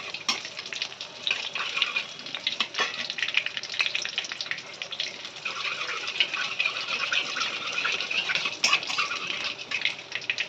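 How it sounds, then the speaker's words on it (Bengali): Bay leaves and a dried red chilli split in two sizzle in hot oil in a wok, a steady close-up crackle with scattered pops and spits running without pause and no voices. "আমি কড়াই বসিয়ে দিয়েছি তেল দিয়ে দিয়েছি ফোড়নে দেবো তেজপাতা দুটো শুকনো লঙ্কা"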